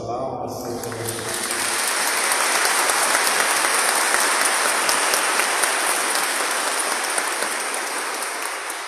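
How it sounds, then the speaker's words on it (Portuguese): Warm applause fills a basilica during a solemn anniversary celebration, a brief sound at the start giving way to dense, sustained clapping that stays full and even, with a slight reverberant wash. "a nossa calorosa salva de palmas"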